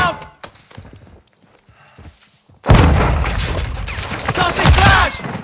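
In Call of Duty: Modern Warfare II, quiet game chatter gives way to a sudden loud frag grenade blast, followed by a sustained roar of gunfire and battle noise to the end.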